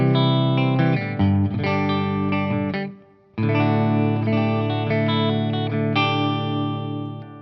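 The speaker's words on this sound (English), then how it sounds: "Neck pickup of the old guitar. Just a lovely, little bit of hall reverb." Clean electric guitar through an EVH 5150 EL34 50W amp's green channel on the neck pickup with a touch of hall reverb, loud sustained strummed chords ringing out, a short decay gap, then more chords carrying on alone.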